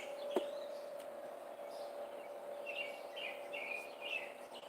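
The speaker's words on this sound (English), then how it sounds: "Birds chirping." Birds chirp outdoors in a quiet spot, a few short high calls repeating in a loose row partway through, fairly faint over a steady low hum.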